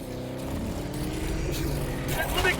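A car engine drones loud and steady, rising slightly as the vehicle climbs a mountain in the video game Army of Two, with players talking over it.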